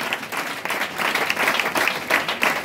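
A church congregation bursts into sustained applause, many hands clapping in a dense, lively roar that swells and continues throughout.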